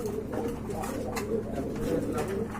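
A male Lahori pigeon coos in low, repeated throaty rolls, close and steady, over a busy background of other birds at a pigeon market.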